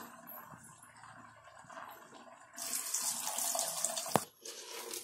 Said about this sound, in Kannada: ಈಗ ನಾನು ಇದಕ್ಕೆ ತರಕಾರಿ ಮುಳುಗೋ ಅಷ್ಟು ನೀರು ಹಾಕ್ತಾ ಇದ್ದೀನಿ.